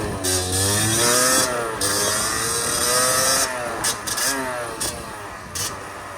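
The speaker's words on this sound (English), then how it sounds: "So now I'm going to show you guys the top speed of my bike." A Beta RR50 enduro motorcycle revs hard and accelerates toward top speed, its engine pitch climbing through gear changes, loud and close with wind noise.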